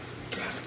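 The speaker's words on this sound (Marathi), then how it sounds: "मिरचीला पण परतून घ्यायचं थोडंसं." Finely ground green chillies hit hot oil and are sautéed while cooking sabudana for an Ekadashi fast: a brief burst of sizzle with a quick stir, close and short.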